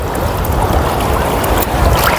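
Sea waves washing onto a beach, a steady broadband rush of surf and water that stays loud and continuous throughout, with no voices.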